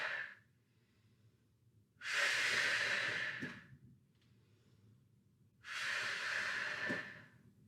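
Two long, forceful exhales during a chest workout, each a breathy hiss lasting about a second and a half. They are close and fairly loud, separated by quieter gaps.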